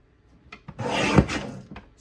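A paper trimmer blade slices a scrapbook border strip in one loud, steady rasping pass that lasts about a second, with a few soft taps and shuffles of paper just before and after.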